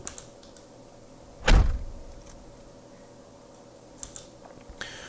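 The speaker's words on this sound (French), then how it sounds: "La porte est ici, en fait, elle se retrouve en bleu." A single solid Mazda RX-7 door thud, close and fairly loud, with a couple of faint clicks afterward over quiet background hum.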